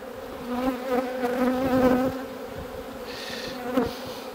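Honeybees buzz loudly at an open hive, a dense, close, steady hum with swelling tones from many insects, no speech heard.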